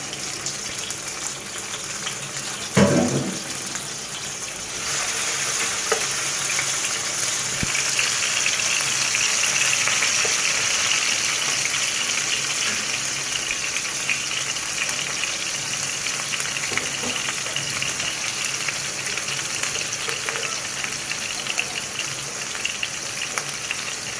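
Green chilli, onion and ginger paste hitting hot oil, a sharp burst of sizzling followed by a steady, loud frying hiss that carries on without talk.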